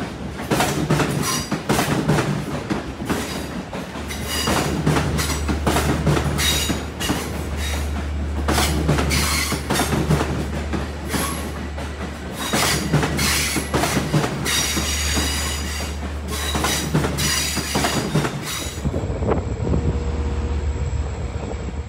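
Long Island Rail Road outbound diesel train led by a DE-30AC locomotive arriving at Jamaica station, with a loud, sustained low engine drone, rolling wheels and clatter, and squealing wheels as it comes in.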